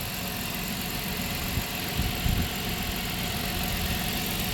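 Engine of an old 1997 Dodge Grand Caravan SE running at a steady idle with a light plastic rattle from the PCV valve, a few faint knocks, no voices.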